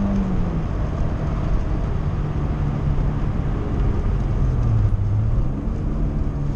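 A Citroën BX GTi 16-valve engine drones steadily from inside the car as revs build, a continuous mid-low hum with a slowly rising and dipping pitch, mixed with road and cabin noise.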